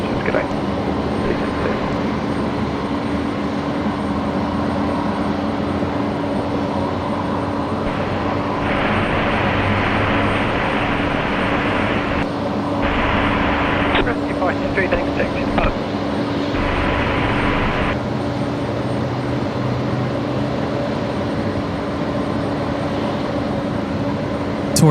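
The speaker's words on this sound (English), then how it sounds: "we got a full-length departure coming up for the Qantas Lincoln Brea" A Qantas airliner makes a full-length departure from runway 01 right at Brisbane Airport, its engines building into a sustained roar beneath intermittent radio chatter and nearby talk.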